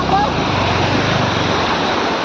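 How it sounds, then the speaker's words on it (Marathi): Water overflows at Ghodazari lake waterfall with a steady, loud, broadband rush close by, with wind buffeting the microphone and people's voices mixed into the roar. "इथं बघा पाणी कसा मस्तने फिरून निघून राहिला"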